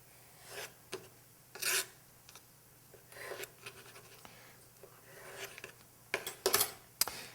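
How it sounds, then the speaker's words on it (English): A knife trimming the rough edges off an orange peel for an Old Fashioned cocktail, with short, quiet scraping cuts in irregular bursts, close up with no talking. "Now I'm just going to take and trim up the orange peel by cutting off the rough edges."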